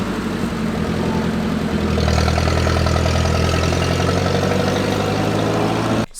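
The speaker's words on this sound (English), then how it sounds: "Since it has a differential, this one tire is spinning, so now it's just kind of stuck here" A vehicle stuck with one tire spinning because of its differential, its engine running steadily and loudly close by, the revs rising after about two seconds and then holding until it cuts off abruptly.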